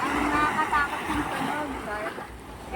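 Big, strong waves crash and surge at Ransohan beach in a continuous roaring wash of surf, with a voice talking over the water.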